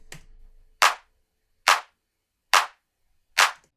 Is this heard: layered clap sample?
yes